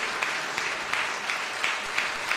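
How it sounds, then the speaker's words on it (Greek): Warm audience applause at a children's choir concert, a steady patter of many hands clapping for about two seconds with no speech over it. "Ένα πολύ θερμό χειροκρότημα για αυτή τη γυναίκα"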